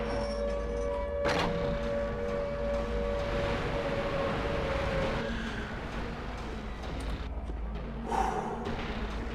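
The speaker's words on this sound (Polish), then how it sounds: "Syreny, znajome syreny. Z pierwszej części." Sirens in a horror video game wail with a long, sustained, slowly sliding tone over a dense low drone, with breathy sounds and a sharp hit partway through.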